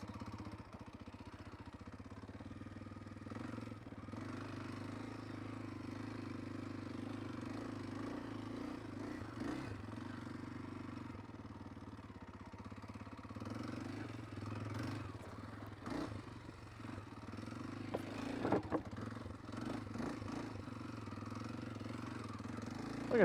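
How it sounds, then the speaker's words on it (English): Kawasaki KLX230R dirt bike engine idling low and steady while crawling over big rocks on a trail, a continuous muffled rumble close by with a few brief clunks and rattles throughout. "I mean, I am practically idling up over this."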